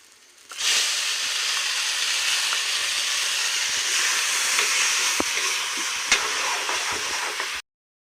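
Blended tomato paste hits a hot pan for matar paneer and bursts into a loud, steady sizzle that holds for about seven seconds, then cuts off abruptly.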